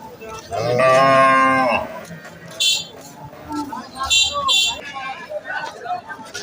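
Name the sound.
bull mooing at a cattle market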